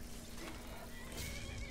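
Horse whinnying in Skyrim, a faint shrill neigh half-buried in a dense wash of ambient noise and a steady hum, with a few hoof clops, at a distance.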